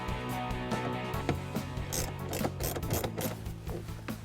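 Hand ratchet clicking rapidly as screws come out of the center console trim of a 2013-2018 Ford Focus ST, with close, steady pawl ticks and occasional louder knocks and no talking.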